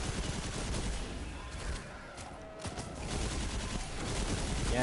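Rapid sustained gunfire aimed at a boss in Destiny 2, a dense continuous rattle of shots with rumbling game effects beneath, fairly quiet throughout.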